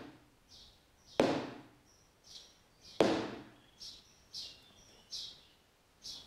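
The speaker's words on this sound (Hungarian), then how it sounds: "és csak hallod a csicsergő madarakat" Small birds chirp in short, repeated calls around a quiet zen temple, spaced through the scene, while two sharp, loud knocks ring out separately.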